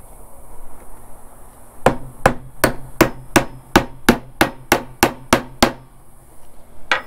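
Inch-and-a-half roofing nails are hammered into a DIY fume board, about fourteen sharp, evenly spaced strikes ringing out close and loud.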